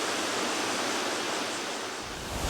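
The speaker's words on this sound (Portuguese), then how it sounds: "Em uma cachoeira deste tamanho, o barulho é intenso." A large waterfall in the Caparaó region, with a 144 m free fall, roars as a dense, loud, constant wash of water, close and unbroken, with no voices.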